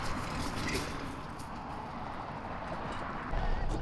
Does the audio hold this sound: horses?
yes